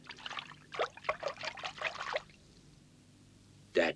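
Water poured to rinse soap off in a garage in an old cartoon, heard as a run of close splashy trickles and pours followed by a pause and one final splash.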